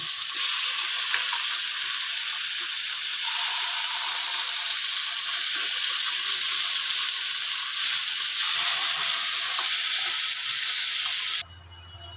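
Chicken pieces, legs included, frying in a pan for Afghani chicken, a loud steady sizzle that carries on without a break before cutting off abruptly into quiet near the end.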